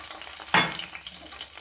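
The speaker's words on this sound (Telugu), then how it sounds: "తాలింపు సరుకులు వేసుకుందాం." Tempering spices, including urad dal, dropped into hot oil for a broad bean chutney: one sudden loud burst of sizzling that fades into a softer, steady crackle.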